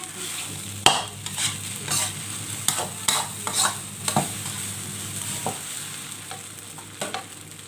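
Egg and shrimp stir-fried for shrimp fried rice, a soft sizzle beneath a rhythmic series of sharp spatula scrapes and taps on the pan, close and unaccompanied by talk.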